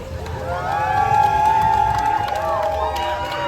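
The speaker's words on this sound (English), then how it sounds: "everyone just cheers when they get, look, oh, they're cheering for each boat" A crowd cheers and whoops as a log boat comes down Splash Mountain on its last day, a sustained roar of many voices with a bright held shout rising above, moderately near.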